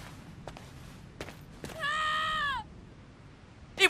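Short, loud scream in the game Infinite Undiscovery, a single sustained voiced cry with rich harmonics lasting under a second, following a few faint soft thuds and ending with a brief sharp sound.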